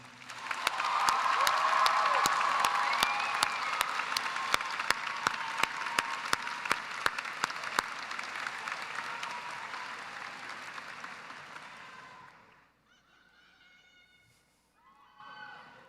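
Loud, sustained applause from a large crowd at a high school graduation, with scattered sharper claps, building quickly then fading out around twelve seconds, followed by a quiet voice.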